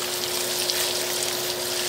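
Water pours steadily over a Wowtac A3 LED flashlight, a continuous close splashing hiss with a faint steady hum beneath it.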